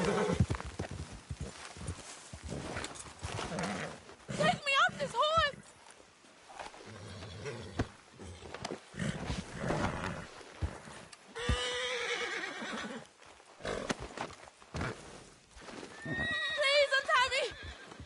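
A horse in Red Dead Redemption 2 whinnies and snorts in several bursts, with clip-clopping hooves and other animal noise mixed among frequent character voices talking over the scene.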